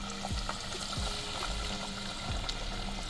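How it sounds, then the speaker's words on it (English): Steady, dense sizzling of fish fillets frying in hot oil, with faint pops and bubbling throughout and no talking. "I'm supposed to hear a little sizzle."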